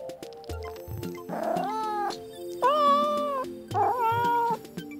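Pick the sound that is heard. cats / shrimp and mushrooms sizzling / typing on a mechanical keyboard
cats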